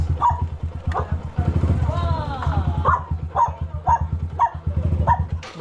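A dog barks repeatedly in short, loud yaps at an irregular rhythm, close by, with a steady engine hum and some talking in the background.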